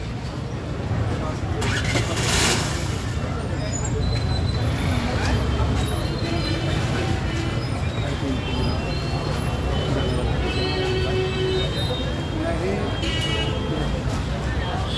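Busy road traffic in Chawri Bazar, Old Delhi: a steady, dense rumble of engines and vehicles with scattered horn-like tones, continuous and fairly loud throughout, with voices mixed into the street din.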